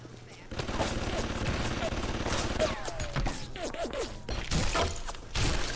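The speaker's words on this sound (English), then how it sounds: "No, that turret is shooting at her, okay." Rapid automatic gunfire from a turret in the video game Bioshock, a dense sustained burst of shots with sharp impacts and crashes, with game sounds mixed in and a person speaking briefly.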